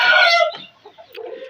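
Hens and a rooster in a chicken coop give a loud, close burst of clucking and crowing calls, then softer clucks, with no talking.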